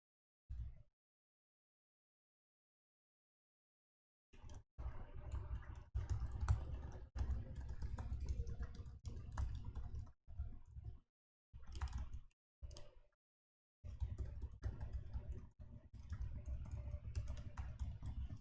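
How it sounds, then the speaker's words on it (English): Typing on a computer keyboard, close and fairly quiet, coming in bursts of rapid key clicks separated by short silences, with no talking over it. "I'm just typing into our team chat to introduce Pisces."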